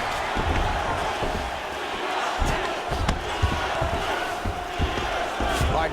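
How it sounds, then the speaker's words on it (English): A crowd murmurs and shouts in a UFC 4 video game bout between Georges St-Pierre and Anderson Silva, a steady arena din with scattered thumps and louder bursts, and no words spoken over it. "We'll see if the crowd can be mature about this, DC."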